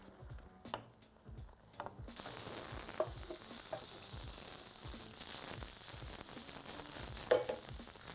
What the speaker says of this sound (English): And I'll just keep on stirring, and we're gonna let this begin to thicken